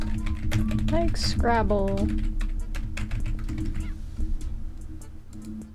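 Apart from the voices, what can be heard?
typing on a keyboard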